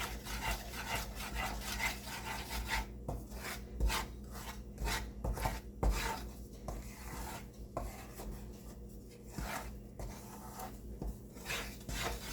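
Bajra millet flour roasting in a pan for sukhadi, stirred with repeated scraping and rubbing strokes in an irregular rhythm, close and moderately loud.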